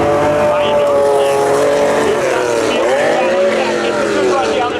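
A Pontiac and a 1998 Chevy Camaro run at speed in spectator drags at Seekonk Speedway, engines whining and shifting pitch as they race past, loud and sustained, with an announcer talking over the noise.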